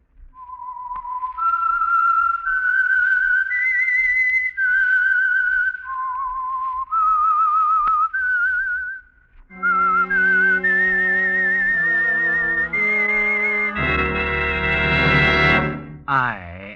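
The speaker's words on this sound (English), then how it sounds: "That whistle is your signal for the Signal Oil program" A lone whistler performs an eerie, sustained melodic theme as a radio mystery signal, clear and steady notes rising and falling, followed by a swelling orchestral chord that joins the final phrase.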